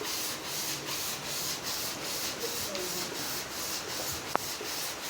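Steady rhythmic rubbing of a motorcycle cylinder head being hand-sanded flat on 1000-grit sandpaper, repeated back-and-forth strokes with a brief sharp click near the end.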